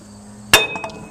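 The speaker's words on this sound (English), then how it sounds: "3 or 4 whacks with a hammer" A single sharp metallic hammer whack on a part of a Case 800 tractor, a bright ringing strike with a short decaying ring and a faint rebound tap after it.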